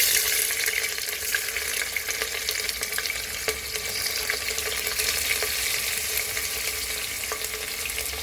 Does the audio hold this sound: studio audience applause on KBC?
no